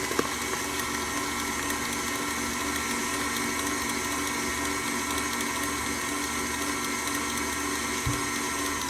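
Electric mixer whirring steadily while eggs are combined into lime cheesecake batter, a constant mechanical hum and rattle that holds at an even level throughout, with no voices.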